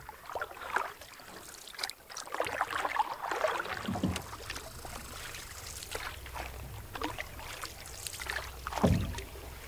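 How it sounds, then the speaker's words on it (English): Canoe paddled across calm Sturgeon Lake, soft repeated paddle strokes and light splashes with water dripping and gurgling close by, quiet and unhurried. "paddling to somewhere we can eat lunch before the portage"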